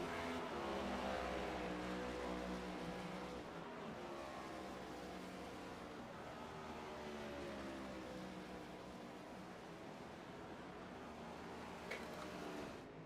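Gen 7 Cup stock cars in a racing video game at COTA keep up a continuous low engine roar, a few cars running together with slowly shifting pitch, moderately distant and steady.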